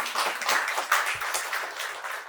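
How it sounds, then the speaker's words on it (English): A business summit audience in Sydney claps after a speaker's remarks, a dense burst of many hands that holds fairly level, then eases slightly at the end. "big round of applause"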